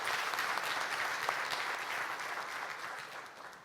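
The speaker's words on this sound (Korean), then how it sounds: "여러분 다시 한번 감사의 박수 보내주시기 바랍니다." Sustained applause of thanks from the audience at a global fintech symposium opening ceremony in Korea, a steady wash of many hands clapping that softens slightly toward the end.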